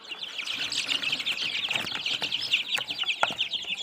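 Many Peruvidai chicks cheep in a steady, high-pitched chorus, with scattered louder peeps and light rustling throughout.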